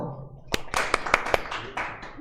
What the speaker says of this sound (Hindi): बजाओ ताली बजाओ